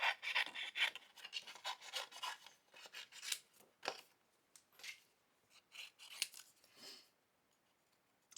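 Scissors snip through paper while paper flowers for cottage rose wedding invitations are cut out. The close, crisp, rasping cuts come in uneven bursts with short pauses, and no one speaks.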